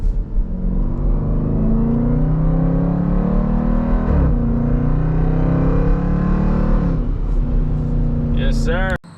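Jeep Trackhawk fitted with a carbon fiber cold air intake, held in second gear, pulls hard with a loud, steady rising engine drone and a brief dip near the middle as revs climb, ending abruptly.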